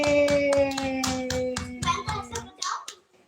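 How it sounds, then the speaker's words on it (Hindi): Children clap in unison for a classmate, roughly ten sharp, evenly spaced claps over a steady hum, then a few scattered claps trail off into quiet. "तालियां बजा लो मेरे स्टूडेंट के लिए।"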